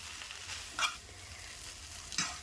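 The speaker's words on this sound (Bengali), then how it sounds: "এখন আমি দুই তিন মিনিট এভাবে করে বেজে নেব" Egg chowmein frying in a pan, a low steady sizzle with two brief scraping stirs, quiet and with no voices.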